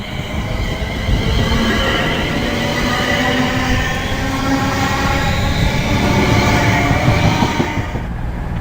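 Class 350 electric multiple unit 350-107 pulling out of Birmingham International station, a loud, steady rolling roar with a faint whine that keeps going throughout and eases at the end.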